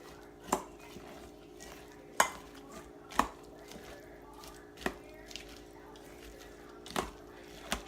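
Fish taco ingredients tossed together in a bowl, giving a handful of sharp, separate clinks and soft squishy thumps spaced a second or so apart over a quiet, faintly humming kitchen background.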